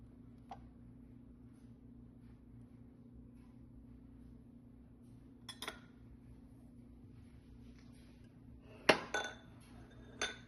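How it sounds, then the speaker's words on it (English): A spatula scrapes down a mixing bowl of cake-like pumpkin chocolate chip cookie batter, giving a few sparse, quiet clinks and taps against the bowl over a steady low kitchen hum. "I'm going to scrape down my bowl again to make sure."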